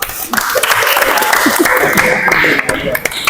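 Audience applause at a chemistry teaching-practice session, a dense steady wash of clapping filling the whole stretch with voices talking through it.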